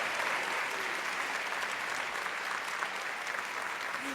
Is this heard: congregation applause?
yes